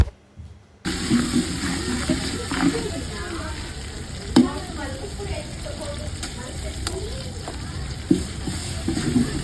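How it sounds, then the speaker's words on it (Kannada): Kasuri methi frying in a pan for a village-style mutton sambar, a steady close sizzle with occasional stirring scrapes and clinks running throughout. "ಕಸ್ತೂರಿ ಮೇತಿ ಫ್ರೈ ಆದಮೇಲೆ"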